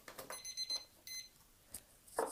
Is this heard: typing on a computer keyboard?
no